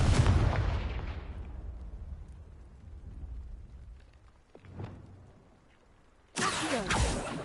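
A booming fire-spell blast from the Confringo charm in the Hogwarts Legacy video game, a heavy explosive rumble that slowly fades, then another loud burst of crackling fire erupts near the end.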